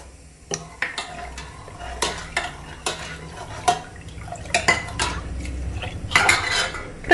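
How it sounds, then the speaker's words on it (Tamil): Spoon stirring chili powder and turmeric into a pot of drumstick sambar, metal clinks and scrapes in an irregular rhythm against the vessel, close and moderately loud, with no voices. "இதை நல்லா மிக்ஸ் பண்ணி விட்டுறலாம்."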